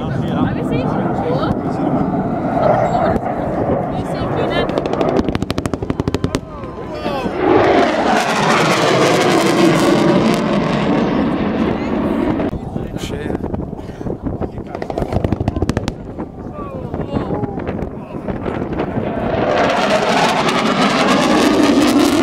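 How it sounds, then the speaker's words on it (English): Military jets at an air show making a strafing pass, two aircraft roaring loudly as they sweep by, engine noise swelling and fading twice, with wind buffeting the microphone and a commentator talking throughout. "They've decided that we're going to pull in for a strafe attack from both aircraft."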